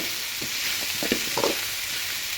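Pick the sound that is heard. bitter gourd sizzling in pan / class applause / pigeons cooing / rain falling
bitter gourd sizzling in pan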